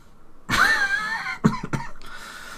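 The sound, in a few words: cough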